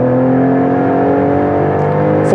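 A 2020 Ford Explorer ST with an aFe Momentum GT intake accelerates hard in a 0-60 run with rear tire slip, its engine note a loud, steady high-revving whine that holds throughout.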